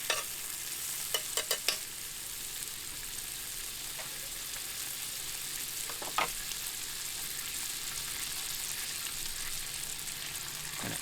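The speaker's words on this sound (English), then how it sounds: "we're going to hit the griddle with some butter. I'm using Kerrygold salted butter here." Kerrygold salted butter sizzles on a Weber Q griddle beside cooking bacon, giving a steady close hiss with a few sharp taps and crackles near the start and another pop midway.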